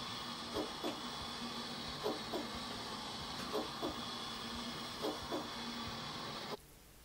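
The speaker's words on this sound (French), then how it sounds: "on a le choix du son de battement de cœur" Soft rhythmic heartbeat thumps from the heartbeat sound setting of a MamaRoo 4.0 baby swing, paired beats repeating about every second and a half over a constant hiss, then stopping.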